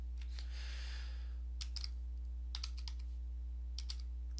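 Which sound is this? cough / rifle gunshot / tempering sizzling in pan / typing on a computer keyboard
typing on a computer keyboard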